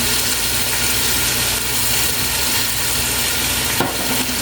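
Ginger and garlic fry in a hot pan with a steady, close, loud sizzle that holds throughout, and a brief stirring knock comes near the end.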